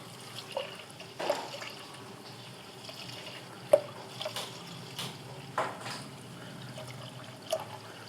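Clean water poured into a pot to submerge plant leaves before boiling, heard as a soft, fairly quiet trickling and splashing with scattered drips and small clinks against the pot.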